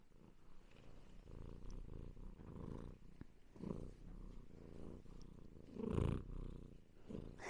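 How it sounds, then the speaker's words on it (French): A cat purrs close to the microphone, a steady low rumbling throb that rises in a few louder swells, with no voices. "Je voulais faire entendre son ronron dans le micro."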